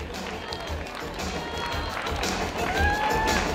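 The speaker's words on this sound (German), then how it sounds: "Applaus für Andris Seid" Spectators at the 2017 Sparkasse Marathon finish line give a marathon finisher faint, diffuse applause, a steady outdoor crowd noise mixed with a distant voice over a loudspeaker.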